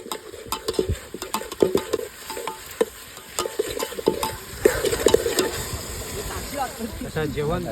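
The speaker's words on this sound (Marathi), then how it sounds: "बघा मस्त तेल सोडलेलं आहे सगळं परतून घेतो आहे" Red masala, turmeric and spices sautéing in oil in a pot for biryani at an outdoor picnic in a Konkan watermelon field: a steady sizzle with repeated scraping stirs and clinks of a spoon, while people talk nearby.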